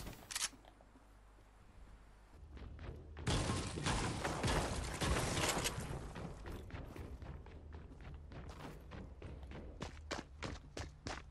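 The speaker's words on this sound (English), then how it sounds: "I'm getting shot from somewhere else" Rapid gunfire in a Fortnite match, bursts of sharp cracks and thuds: a few early shots, then a dense loud volley, followed by scattered irregular reports trailing off, with no talking.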